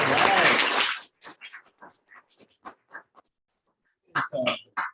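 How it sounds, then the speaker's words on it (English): Audience applause at a seminar on peak performance and productivity: a dense, loud burst of clapping lasting about a second, then dropping away as a single voice begins speaking. "Give me a round of applause, everybody."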